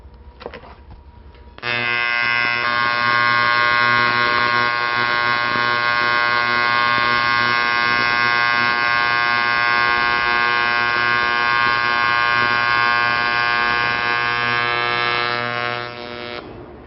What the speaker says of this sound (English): I'll make a second weld parallel to the first weld.